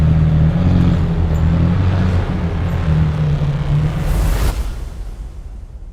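A McLaren Senna track car's engine gives a steady, loud low drone that holds for several seconds and then fades near the end.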